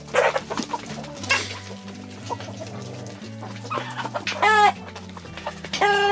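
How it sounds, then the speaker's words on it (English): Ameraucana roosters cluck and crow repeatedly nearby, calls overlapping with a loud rising crow near the end, over a low steady hum. "here's our 3 Americana roosters all right here,"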